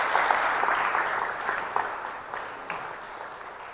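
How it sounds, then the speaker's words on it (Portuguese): A church congregation applauds after a sermon, a steady wash of clapping that slowly fades, with a few sharper claps standing out near the end. "Vamos dar uma salva de palmas para Jesus"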